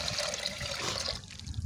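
Water poured into a pressure cooker in a home kitchen before black chickpeas go in, a steady close splashing stream lasting the whole short moment.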